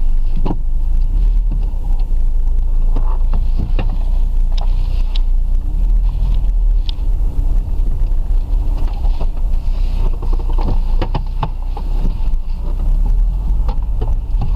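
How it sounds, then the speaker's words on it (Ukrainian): A Suzuki Grand Vitara 2.0 with an LPG conversion and a four-speed automatic runs on petrol while driving, giving a loud, steady low engine rumble throughout with occasional creaks and wind buffeting. "Спадають обороти. 900, 850. Їдемо накатуємо бензин."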